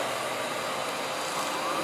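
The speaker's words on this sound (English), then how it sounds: "Alright, so we're going to vacuum the carpeting." A Royal S20 Lexon SR30020 canister vacuum cleaner runs over carpet, giving off a steady, loud, broadband motor whine and airflow hiss that holds constant without pauses.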